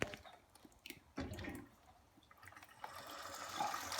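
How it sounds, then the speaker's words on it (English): Water gurgling and splashing as it drains from a Vaillant ecoTEC 937 boiler pump into a bucket, with irregular bursts of trickling and sputtering, fairly close but quiet. "this one's gurgling away, it's draining, and we should fill this bucket"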